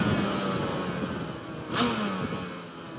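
Yamaha TDR 250 two-stroke motorcycle engine running steadily close by, with a sharp rise in revs near the middle before settling back to a continuous buzzing drone.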